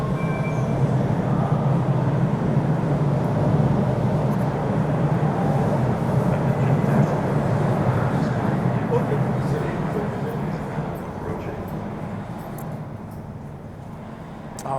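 Rumble of a subway train in a station, steady and loud, gradually easing as it pulls away, with people talking over it.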